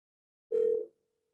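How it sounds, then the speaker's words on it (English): A single short telephone tone sounds as a call is dialed on an Asterisk phone server, clean and isolated, lasting under half a second before silence. "I'm going to dial to 3500"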